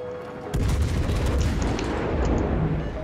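Naval gunfire in the World of Warships video game, a heavy booming salvo that erupts after a brief lull and rolls on as a loud, sustained rumble.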